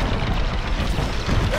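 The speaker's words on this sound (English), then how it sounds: "I'm taking fire. I'm taking damage." In the Star Wars Squadrons game, enemy fire hits a starfighter. Brief, dense booming impacts and crackling bursts come close and loud, packed into a moment of rapid hits.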